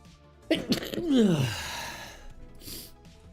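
A single close, loud sneeze with a sharp intake and explosive release, trailing off into a breathy exhale.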